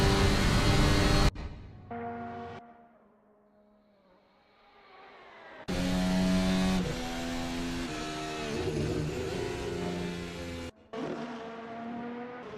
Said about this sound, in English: the cars seem to be bellowing a lot louder today than they are normally